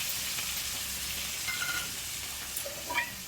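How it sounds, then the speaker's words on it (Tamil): Mutton pieces with ginger, garlic and spices fry in a kadai, a soft steady sizzle with a few brief stirring scrapes near the end. "இது எல்லாத்தையும் இப்போ வறுக்கிறதுக்காக கடாயில் போட்டுக்கலாம்"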